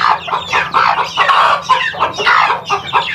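Chickens and roosters cluck loudly and close by, a busy overlapping run of short clucks and calls with a crowing note among them, and no talking.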